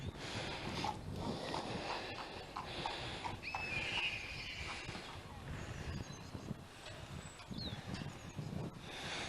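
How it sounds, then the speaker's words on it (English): Horse hooves clip-clop steadily outdoors, with wind rumbling across the microphone and a faint whinny or snort now and then. "Someone's just been out for a ride on the horse."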